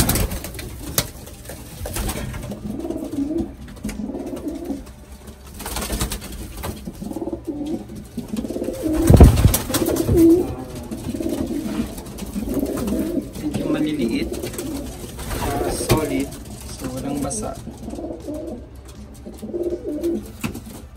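Pigeons in a Texas pigeon loft, hens and young birds, coo in low repeated rumbling phrases near and far, while someone talks over the birds in the middle.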